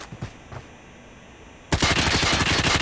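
A CR-56 assault rifle fired from the hip in a video game: after a quiet stretch with a couple of faint thumps, a loud, rapid unbroken burst of automatic gunfire runs to the end.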